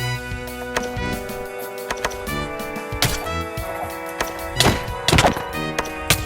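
Spear charge attacks landing in a video game, a series of sharp, heavy thunks and whacks at irregular intervals over a steady musical backdrop, with a cluster of harder hits near the end.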